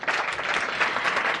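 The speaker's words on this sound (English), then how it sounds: "so give her a round of applause" Dense applause from an audience at a start-up night event in The Hague fills the whole moment, steady and loud with no gaps, greeting a chocolate company co-founder from Zambia.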